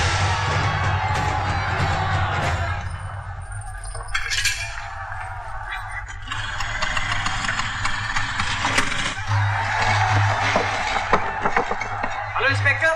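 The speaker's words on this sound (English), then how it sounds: "There's a huge crowd outside." A large crowd gathers outside, shouting and cheering in a continuous roar over a low drone, with surges of noise rising and falling across the span.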